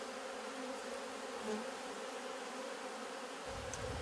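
Honey bees buzz in a steady, faint drone inside a jar, a continuous hum with small shifts in pitch.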